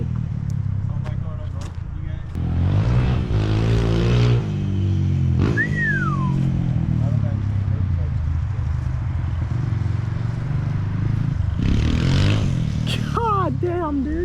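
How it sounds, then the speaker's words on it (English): A freshly rebuilt 1982 Honda XR200R motorcycle ridden with its exhaust off gives a loud, raw, steady engine drone with rising and falling revs, while voices talk over it throughout. "Oh yes, my exhaust came off."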